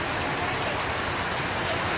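Heavy rain pours outside a small neighbourhood store, a thick, constant roar of drops drumming on surfaces, close and unbroken.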